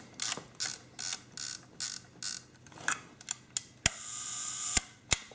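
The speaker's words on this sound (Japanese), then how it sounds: "1秒でシャッター切れます。" A Mamiya-6 Automat folding camera's leaf shutter set to one second, heard as a series of close, dry mechanical clicks and ratcheting winds, then crisp sharp snaps with a brief whirring run between them.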